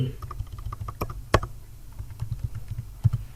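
Close, steady typing on a computer keyboard as a database insert query is entered, with a run of soft key clicks and a couple of louder key presses.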